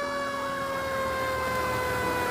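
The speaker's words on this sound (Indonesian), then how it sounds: "bunyi mobil pemadam kebakaran. Bunyinya sangat kuat dan terdengar meskipun dari jauh" A fire truck siren wails steadily, its loud tone sliding slowly downward, heard alone without any voices.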